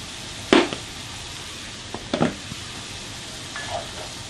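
Vegetables caramelizing in a pan for Philly cheesesteak stuffed bell peppers: a soft steady sizzle runs under a few sharp clinks and scrapes of a utensil stirring the pan.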